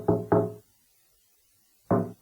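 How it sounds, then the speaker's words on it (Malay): Knocking on a window pane behind a sleeper's head: two quick knocks, a pause of over a second, then one more knock, close and distinct in an otherwise silent room. "tiba-tiba saya dengar bunyi ketukan dekat cermin tingkap belakang kepala saya"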